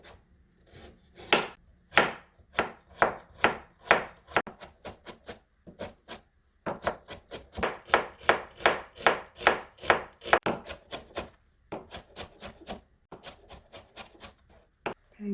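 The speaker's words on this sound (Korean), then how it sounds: "당근은 채 썰어서 곱게 다져줄 거예요." A knife finely chops julienned carrot on a cutting board, close and crisp, in quick rhythmic runs of sharp taps broken by short pauses.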